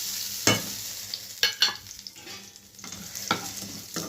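Cumin, mustard seeds, curry leaves, red chili and chana dal sizzle in hot oil for a Telugu ridge gourd chutney, a steady crackling hiss broken by three or four sharp spoon scrapes against the pan; no voices.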